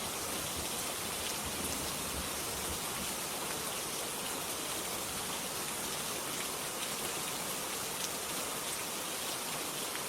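Steady, dense rain pours without a break, a uniform hiss of drops hitting surfaces that stays constant throughout, with no voices or other sounds.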